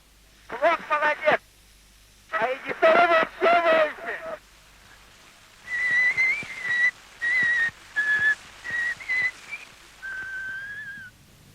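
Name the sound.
person whistling on old phonograph recording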